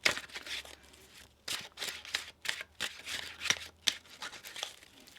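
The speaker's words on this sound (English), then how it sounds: "One more shuffle here." A deck of tarot cards being shuffled close by, in irregular bursts of crisp riffling and snapping card noise separated by short quiet gaps.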